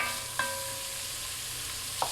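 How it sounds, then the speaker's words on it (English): Garlic, peppers and celery sizzle softly in bacon fat for red beans and rice, a low continuous hiss broken by two brief clinks of a stirring utensil. "now we have bacon fat, but we also have the liquids from the peppers and the celery to help kind of keep that garlic from burning"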